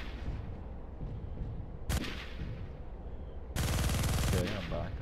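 Gunfire in the mech combat game Mechwarrior Living Legends: two loud bursts of automatic fire, a short one then a longer sustained volley, cutting over a low rumbling battle background.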